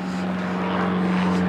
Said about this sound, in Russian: А это Сабаделя самолет.